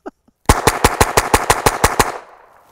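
A rapid string of about eleven suppressed rimfire gunshots from cheap subsonic ammunition fired through a small silencer, loud, close and evenly spaced, with a short tail after the last shot and a faint click or two beforehand.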